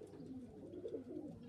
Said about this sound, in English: But yeah, there's the birds.